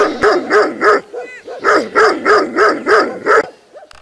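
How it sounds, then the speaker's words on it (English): Mongolian dogs bark aggressively in the Gobi desert, a rapid run of loud, close barks in steady rhythm with a brief pause partway through. "Mongolian dogs can be very aggressive, but I held my ground."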